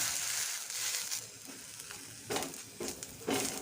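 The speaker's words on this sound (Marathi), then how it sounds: "तव्यावर हे वाटाणे आपल्याला टाकून द्यायचे" Soft dry sizzling and rattling of peas dry-roasting on a hot griddle, followed by a few brisk scraping stirs near the end.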